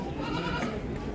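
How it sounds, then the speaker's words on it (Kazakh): Purebred Toggenburg and Alpine goats at an international goat exhibition in Uzbekistan, with a bleating call over a dense crowd murmur and people talking nearby. "Чистопородный, тагимбурский, альпийский ешкілер."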